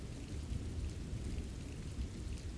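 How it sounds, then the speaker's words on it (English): Heavy rain pours down steadily in a storm, a dense continuous hiss with low rumbling thunder underneath, loud and close with no voices. "and there was a great rain."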